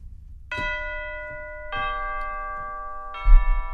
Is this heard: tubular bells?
yes